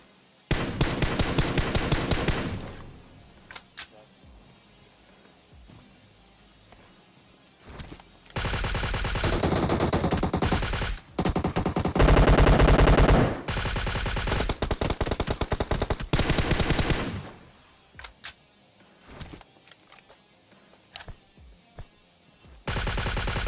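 Bursts of automatic gunfire from a shooting video game, rapid loud volleys in several long stretches separated by quieter pauses, with no talk over them.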